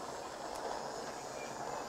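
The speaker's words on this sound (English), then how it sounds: "So B Toys also has a train. I'm gonna turn him on here." B Toys children's toy train switched on, giving off a steady mechanical running hum with faint clattering, close and fairly quiet, with no voices.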